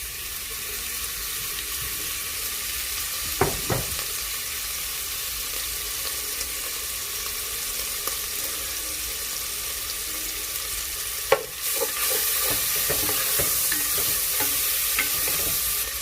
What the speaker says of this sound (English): I'm going to toss in the bacon.